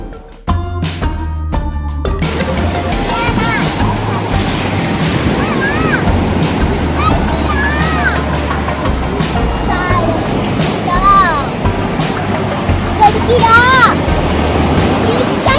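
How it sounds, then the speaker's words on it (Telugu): Surf breaking along Visakhapatnam beach on the Bay of Bengal, a steady wash of waves with wind buffeting the microphone, opening with a few sharp knocks and continuing loud and close throughout. "ఇది బే ఆఫ్ బెంగాల్."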